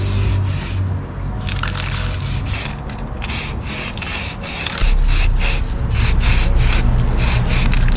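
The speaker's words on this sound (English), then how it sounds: "I will paint it with a aerosol paint" Aerosol spray paint hissing onto a sanded-down plastic car part, a broad steady spray in several long bursts with short pauses between them, close and loud, with no talking.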